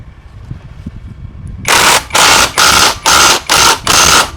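An APR AP127+ impact wrench working on a motorcycle hammers in five loud, close bursts of rapid rattling, each lasting about half a second with short gaps between, after a quiet start.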